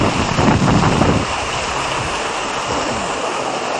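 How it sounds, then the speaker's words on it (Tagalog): Strong wind at a campsite roaring and buffeting the microphone, a loud gust easing slightly after the first second, with no voices. "Sobrang lakas pa ng hangin."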